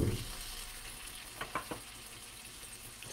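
Hot dogs sizzle steadily in a cast iron pan, a continuous close frying hiss with a few brief clicks and pops midway; no one talks.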